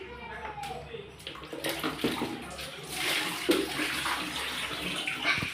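A small girl is washed in bath water, with splashing and pouring water running throughout, close by, while an adult and someone talk over it.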